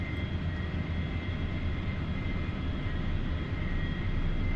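A-4E Skyhawk jet engine in a DCS World flight simulation of a Blue Angels airshow solo practice, a steady, loud, continuous cockpit roar and whine with no pauses and no voices.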